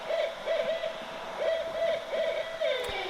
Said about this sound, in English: That's the sound of the owls, the wise owls in the trees,